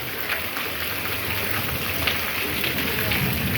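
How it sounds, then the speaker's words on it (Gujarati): Heavy night-time rain during a storm pours down as a steady, dense hiss that stays close and constant throughout, with no other sounds standing out. "11 વાગે વરસાદ આવ્યો છે. જબરજસ્ત વરસાદ હતો."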